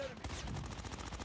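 Rapid automatic gunfire rattles in a fast, even burst of shots in Call of Duty: Mobile, loud and close throughout.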